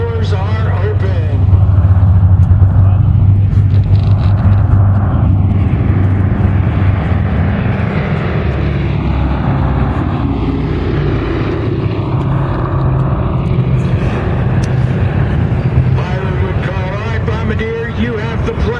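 Vintage airplane Yankee Lady, flying with its bomb bay doors open at a World War II Weekend event, passes by as a loud, steady propeller engine drone lasting the whole stretch, with a voice talking over it.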